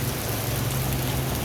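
Steady, dense rain drums on awnings along a street in Vietnam, a continuous loud hiss with a low rumble underneath, close by and unbroken, with no voices.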